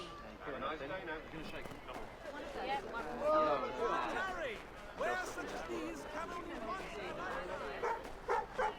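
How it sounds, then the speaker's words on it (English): A dog barks and yips repeatedly, close and insistent, with whimpers mixed in while people talk over it and game sounds play in the background. "Sorry, my dog keeps being very naughty. He keeps barking."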